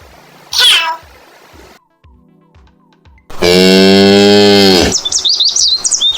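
A loud, sustained cow moo with a rich harmonic drone, lasting about one and a half seconds, preceded by a brief cat-like call and followed by squeaky chatter.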